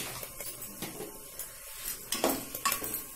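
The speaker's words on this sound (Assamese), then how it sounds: "এতিয়া মই এখিনি ভালকে লৰাই" Spoon stirring a vegetable dish seasoned with Kitchen King masala in a pot, irregular scraping and clinks against the metal with a faint sizzle, close and moderately loud with no talk.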